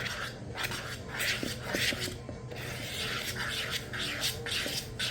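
Cookie dough is mixed by hand in a bowl: repeated scraping, stirring strokes with light clinks of utensil against the dish, close and fairly quiet, in an uneven rhythm.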